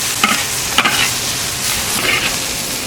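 Pickled greens stir-fried in a hot wok in a home kitchen, a steady loud sizzle with scraping spatula strokes in several bursts, close and continuous without speech.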